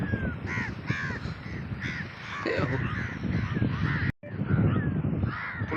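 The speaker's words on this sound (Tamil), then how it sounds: "காக்காவும் அது திங்குது" Several crows caw close by and overlap one another on a beach where broken turtle eggs lie on the sand, with a steady outdoor background and no speech.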